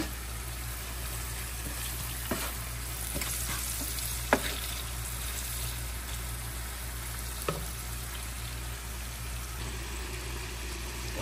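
Sliced bitter gourd and potato with onion, green chili, turmeric and salt sizzle steadily in a pan, with a few sharp spatula clicks as they are stirred over a low, constant hum.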